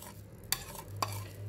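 Spoon stirring a spice mix of salt, turmeric, pepper and cumin powder in a pan for a paneer sandwich filling, two sharp scraping strokes over a low sizzle.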